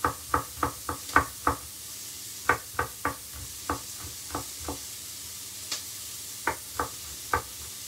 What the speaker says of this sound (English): Going to finely chop this garlic.